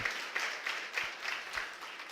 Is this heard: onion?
no